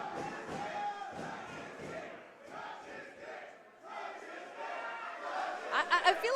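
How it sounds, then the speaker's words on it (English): Wrestling crowd at an intergender tag match chanting for Eli Everfly, a rhythmic mass of voices swelling and dipping in the arena, with a few thuds and louder bursts near the end. "It's literally the crowd chanting for Eli Everfly to touch Joey Ryan's dick."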